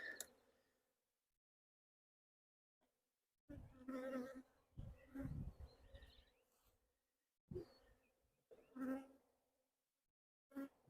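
Honey bees swarm around an open hive while frames holding the queen are set inside. Faint buzzing rises in bursts across the clip, with voices speaking over parts of it.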